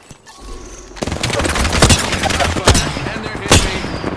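Heavy automatic gunfire in the shooter game Apex Legends, loud close bursts of rapid shots with sharp cracks and booms building after a quiet start and continuing throughout.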